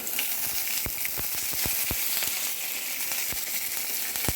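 Fenugreek seeds and curry leaves sizzle in hot oil for a home-style curry, with a steady frying hiss broken by frequent sharp crackles and pops, close and alone.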